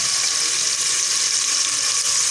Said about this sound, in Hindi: ये देखें जी, इस तरीके से हमारा प्याज फ्राई हो चुका है।